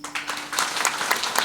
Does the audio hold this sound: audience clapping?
yes